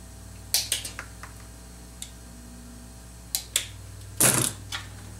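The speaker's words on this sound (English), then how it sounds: "Snip off the end bits." Wire cutters snip the soldered ends off wires during an arcade power supply restore: a few sharp, close clicks spaced apart, then one louder crunching cut near the end.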